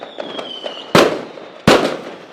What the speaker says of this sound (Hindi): हर जगह पटाखे फूट रहे थे।